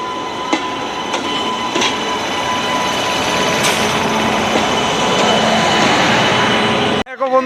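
The Padatik Express 12377 pulls in at platform 3 of Coochbehar station, a loud steady rumble of wheels with rhythmic clacks over the rails, under crowd noise, ending abruptly.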